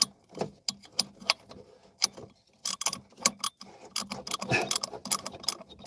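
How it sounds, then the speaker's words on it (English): A hand ratchet clicks in short irregular bursts while turning a hard-to-reach bolt during vehicle repair, with metallic pawl ticks and tool clinks close by and brief pauses between strokes. "Now I'll get the ratchet on the end. Make that work."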